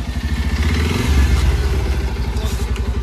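Motorcycle engine running steadily up close as a first-time rider pulls along, a low rumbling throb with slight revving and rattly clatter, loud and continuous throughout.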